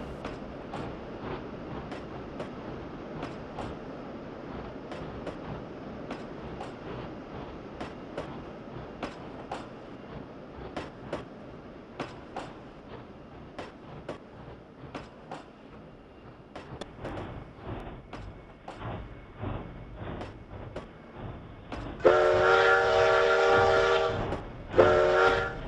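A narrow-gauge Denver & Rio Grande Western steam freight train in the Trainz 2009 simulator rolls past near Cumbres Pass with steady rhythmic clanks and rail beats. A loud whistle blast sounds close to the end.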